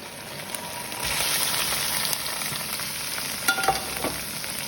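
Crayfish hitting a hot pan with garlic and oil, a steady close sizzle that swells after the first second, with a few brief clatters of stirring near the end and no speech.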